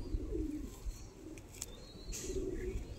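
Kalsira pigeons coo softly in a few low rolling bursts, fairly quiet and partly blended into background noise.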